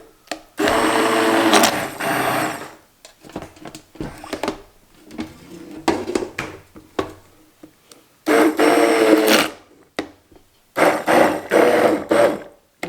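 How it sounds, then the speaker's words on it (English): An immersion blender purees hot homemade apple sauce in loud, close bursts of motor whir, two long runs and several shorter pulses, with quieter stirring and handling sounds in the gaps. "always be careful with an immersion blender to not have the hot food come up at your head"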